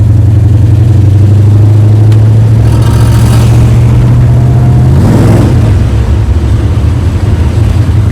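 Dodge Dart Swinger fitted with new mufflers, its engine droning loudly from inside the car, a low exhaust note rising in pitch for a few seconds before dropping back and settling into a steady rumble, no talking.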